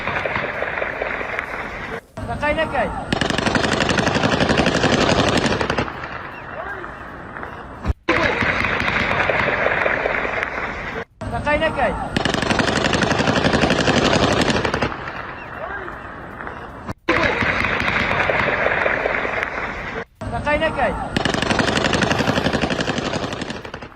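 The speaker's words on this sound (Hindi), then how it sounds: "यह भीषण गोलीबारी, जरा सुनिए यहां किस तरह के हालात रहे हैं रात भर।" Heavy overnight gunfire near the Erbil oil refinery, heard as long, loud, sustained bursts of rapid shots separated by short gaps of quieter rumble.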